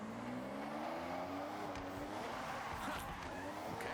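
A car drifting in the Forza Horizon racing game, driven with a Logitech steering wheel, gives a steady engine drone with rising pitch and a hiss of tire noise, continuous and fairly quiet.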